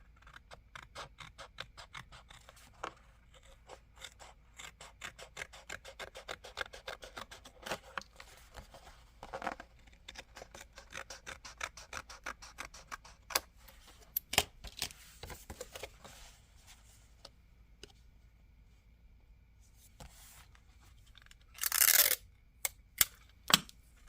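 Scissors snipping a paper planner divider tab, a quiet series of crisp cuts and rustles spread through a mostly hushed stretch, with a few louder handling clunks and paper crinkles near the end.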